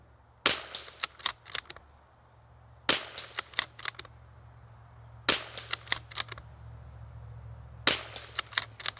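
Sharp rifle gunshots ring out during a range test of a Chinese rifle scope, fired in four separate clusters of several quick, loud cracks, each followed by a brief echoing tail, with quiet gaps between groups.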